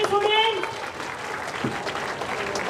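Students at a drugs and women safety awareness rally applaud in a steady patter of clapping, with a voice speaking over the start.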